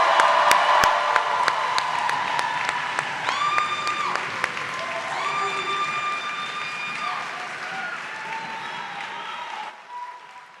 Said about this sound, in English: I think they deserve one more round of applause.